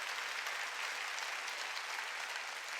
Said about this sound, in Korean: 깨달은 사람만 박수.